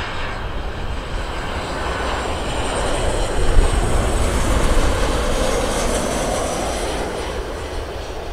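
A jet airliner roars steadily at Los Angeles Airport, loud and sustained for several seconds with a broad rumbling hiss that swells slightly midway, no voices.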